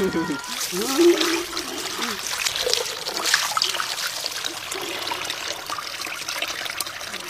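Running water splashes and trickles steadily over cleaned intestines being rinsed, a continuous close wash with a voice talking over it.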